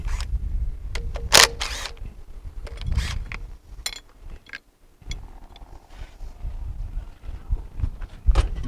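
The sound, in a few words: wrench removing bolts from Briggs twin engine on Murray mower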